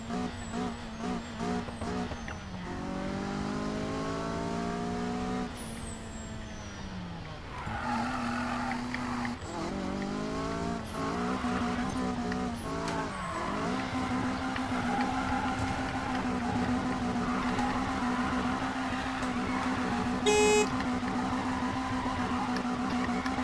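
A racing car engine in the Need for Speed video game revs and climbs through gears with repeated rising whines, shifts and tire squeals, loud and close, running steadily throughout with no talk.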